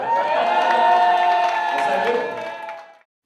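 Loud, sustained applause mixed with cheering and shouting from wedding guests in a crowd, holding steady for about three seconds before cutting off abruptly.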